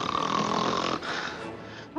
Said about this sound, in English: significant snoring associated with untreated obstructive sleep apnea